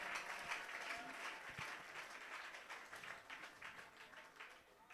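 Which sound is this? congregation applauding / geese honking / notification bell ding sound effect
congregation applauding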